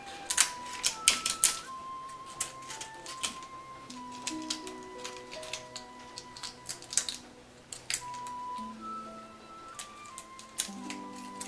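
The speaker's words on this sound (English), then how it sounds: "Now, seeing the knife didn't work, using scissors is a good idea." Scissors snip dried kombu seaweed into small bits for an olive and kombu whole wheat bread, giving quick, crisp, closely repeated cuts in uneven bursts over a faint tonal background.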